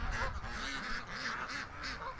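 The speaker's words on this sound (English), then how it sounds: "3 Canada geese." Canada geese honking, a quick series of faint, nasal honks repeating in a rough rhythm over a couple of seconds, heard from a distance outdoors.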